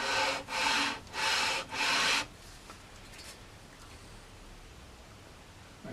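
Four rhythmic rasping strokes of a sanding beam drawn back and forth across the fretboard of a vintage Sakai/Audition electric guitar, radiusing it, close up, followed by near silence.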